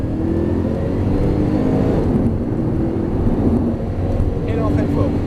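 A Porsche GT3 Turbo accelerates at full throttle on a track, its engine a loud, sustained rising roar with a brief dip midway, heard from inside the car.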